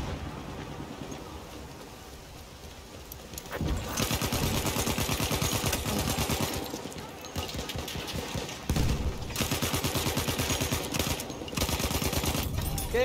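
Battlefield 1 gunfire, with long rapid bursts of automatic fire that come in loud sustained stretches broken by short pauses, over a quieter opening with background game noise.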